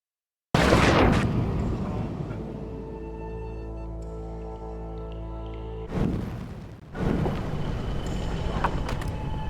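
A detonation blast in Life is Strange sets off a sudden loud boom that rolls into a long, steady rumbling roar, with a second surge of blast noise partway through.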